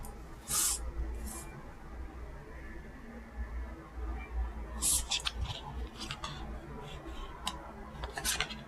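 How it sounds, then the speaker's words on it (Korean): Tarot cards laid out on a table for a monthly horoscope reading, giving soft papery slides and taps in a few short clusters over a quiet room background. "자, 카드 나열 해보도록 하겠습니다."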